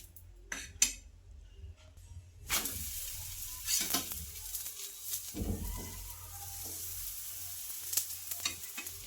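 Aloo paratha browning on a hot pan, a steady soft sizzle running throughout with occasional scrapes and light clinks of a utensil, close and moderately loud.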